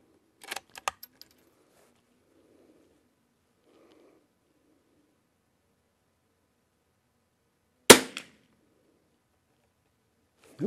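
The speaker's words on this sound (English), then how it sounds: "First shot fired. Ranger 22." A CZ455 .22 rifle with a Lothar Walther barrel and a Christensen Arms Ranger 22 stock fires CenterX ammunition: a few light mechanical clicks early on, then one sharp, close crack late in an otherwise quiet stretch.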